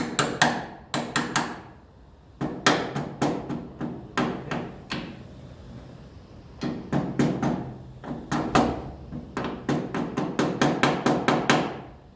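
A hammer taps on the steering box of a 1954 Ferguson TEF 20 diesel tractor in close, loud bursts of rapid metallic blows separated by short pauses, with no talking.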